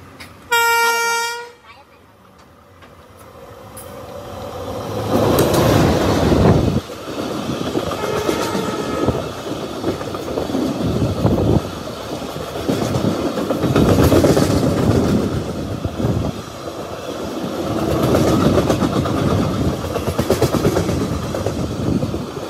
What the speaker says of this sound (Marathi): ही होती आता चंदीगड कोच्चीवली. एकदम दुर्दशा झालेली त्या ट्रेनची.